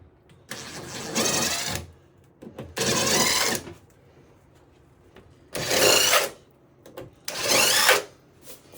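A power drill whirs into a wall in four separate bursts while installing a floating shelf, each lasting about a second, with short pauses between them, close and fairly loud.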